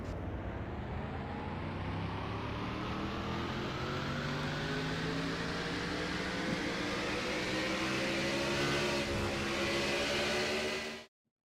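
Onboard engine of the number 3 Truck Hero Chevrolet stock car in a NASCAR video game race at the Dixie Vodka 400, a continuous loud engine drone with rising harmonics as it accelerates, then cutting off abruptly at the end.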